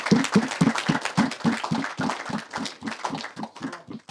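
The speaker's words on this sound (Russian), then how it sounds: "давайте поаплодируем." A hockey audience claps in quick rhythmic unison, with sharp, evenly spaced claps of fairly strong, uneven loudness filling the hall without talk over them.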